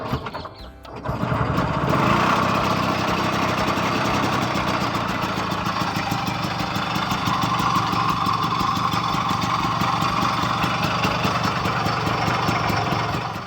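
A small Royal Enfield Fantabulous scooter engine sputters to life on its electric starter and then runs steadily, a close, continuous buzzing idle.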